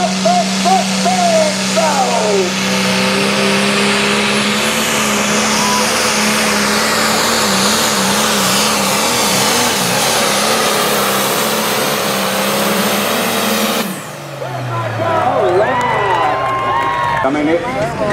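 An outlaw pulling truck roaring under load at a truck pull, a loud sustained engine howl with pitch sweeps that drops off near the end, while an announcer talks over a crowd.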